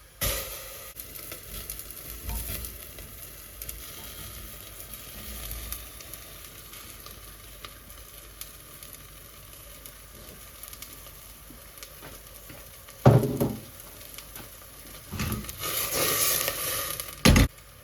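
Butter melting in a hot pan for a broccoli and garlic dish, a steady low sizzle and faint crackle throughout, with a few louder scraping or spattering bursts near the end.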